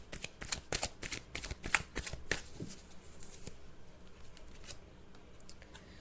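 Tarot cards are shuffled and drawn nearby in a flurry of quick riffling snaps and slides that thin out into softer handling. No one speaks.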